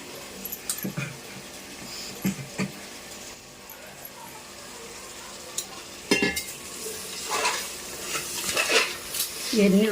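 Carrots, beans and potatoes stirred in a hot pan with masala, metal spoon scraping and clinking against the pan over a light sizzle, louder bursts of stirring toward the end.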